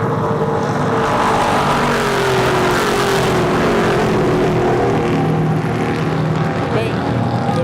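A race car circling the Monster Mile track, a steady loud engine drone with a sliding pitch sweep as it passes, continuous throughout and sounding moderately distant.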